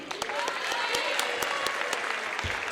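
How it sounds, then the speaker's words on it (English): A gym crowd at an Austintown Fitch versus Howland girls' basketball game applauds the team's seniors with steady, dense clapping and a few louder individual claps, sustained throughout. "How about a round of applause for the 4 seniors from Austintown Fitch?"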